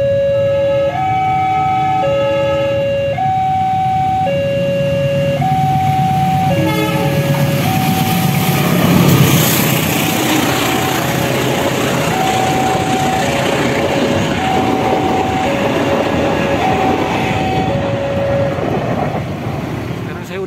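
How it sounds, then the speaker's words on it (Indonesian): A freight train rumbles past at close range, its steady low roar of wagons continuous throughout while a long repeating two-tone horn or warning signal sounds clearly over it, at a rail crossing area. "Ada kereta api logistik."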